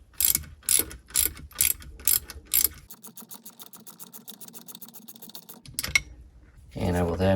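A ratcheting wrench loosens a bolt on a Sea-Doo GTX 951DI engine. It opens with six evenly spaced loud clicks, then a long steady run of fast ratcheting, a lone click, and a final scrape.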